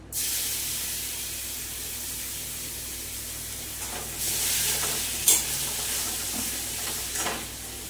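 Chopped ginger, garlic and green chili sizzle steadily in hot oil in a pan for a navratan korma, with a louder hiss swelling midway and a few stirring scrapes.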